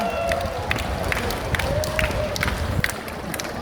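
An outdoor festival crowd at a lotus festival event applauds a prize winner: a busy wash of clapping and crowd noise with scattered louder claps, voices and cheering mixed through it.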